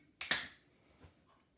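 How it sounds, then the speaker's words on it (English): A group clicking their fingers together on a count, giving two quick sharp snaps close together and a fainter third snap shortly after, in an otherwise quiet room. "we're all going to click our fingers"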